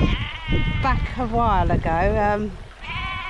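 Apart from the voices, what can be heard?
ram bleating on Dartmoor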